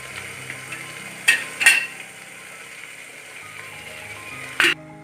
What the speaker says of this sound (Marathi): थोडंसं तेल घालून ह्या मिरच्या भाजून घ्यायच्या आहेत